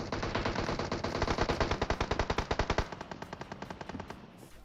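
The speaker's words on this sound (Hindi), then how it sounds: "पूरी जान लगा के गोलियां चल रही होती है" Rapid automatic gunfire from an M762 rifle in PUBG Mobile rattles in a steady stream, loud and close, then thins into quieter scattered shots near the end.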